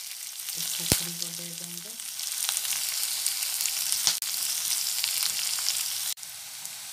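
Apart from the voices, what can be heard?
khukhdi mushrooms frying in a pan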